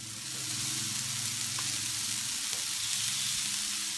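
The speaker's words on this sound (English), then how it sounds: "Put down the seasoned lamb" Seasoned lamb sizzles on a Blackstone griddle set to medium, a steady close crackling hiss with no talk.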